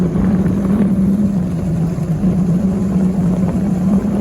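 A Yamaha Alfa motorcycle engine runs at a steady idle, giving a constant, fairly loud low hum with a gritty rumble that holds evenly throughout, with no voices.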